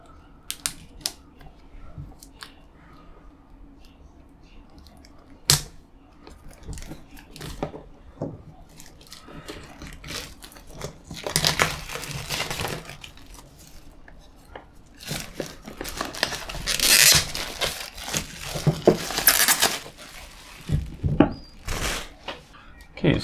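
A board game box is opened by hand: scattered taps and knocks lead into bursts of rustling and crinkling from cardboard and packaging, close by, with brief soft speech.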